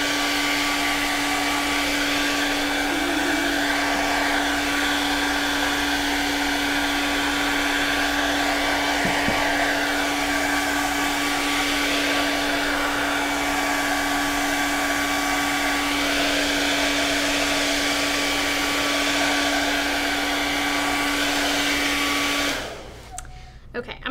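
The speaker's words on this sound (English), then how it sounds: "while I blow dry" A hair dryer blows steadily and loudly for about twenty-two seconds, drying paint on a refinished wooden lazy susan, with a constant whine and airflow roar before it cuts off abruptly near the end.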